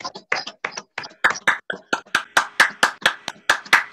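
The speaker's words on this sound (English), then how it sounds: "Please, can you unmute yourselves and give a big hand, a really warm applause for Zoe Brooks." An online audience at an International Women's Day poetry reading claps over a video call after a closing poem: close, crisp, steady claps that grow more regular and rhythmic, with no talking.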